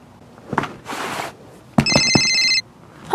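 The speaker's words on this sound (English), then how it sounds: "I think I got a phone call." A telephone rings with a bright electronic trill in one sustained burst, loud and clear. Scattered clunks and a short hiss come before it, and the ring stops abruptly, followed by a brief noise at the end.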